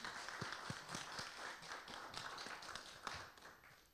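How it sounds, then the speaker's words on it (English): An audience at an entertainment panel claps for a speaker, a quiet, fairly distant patter of hand claps of moderate density that holds for a few seconds. "Let's give her a round of applause."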